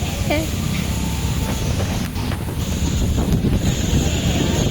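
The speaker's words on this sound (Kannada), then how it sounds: "ಆಹಾ ಎಂತ ಗಾಳಿ" Steady wind buffets the microphone throughout, a loud broadband rumble that barely lets up.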